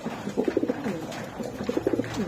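Damascene Budapest racer pigeons cooing close by, two short bursts of rolling, pulsing coos separated by a brief pause.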